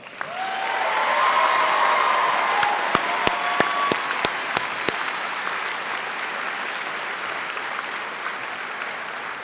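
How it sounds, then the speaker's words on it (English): Graduation audience at Alliance Academy applauding the graduates after the names are read, a broad crowd clapping that swells and holds, with a burst of sharp, evenly spaced claps or knocks standing out near the middle. "Let's give them a round of applause."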